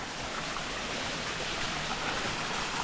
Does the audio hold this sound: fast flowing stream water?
yes